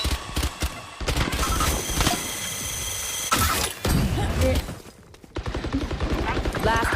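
Rapid bursts of gunfire from a tactical shooter video game, Valorant, crackle loudly in dense volleys with brief pauses, alongside voices talking over the action.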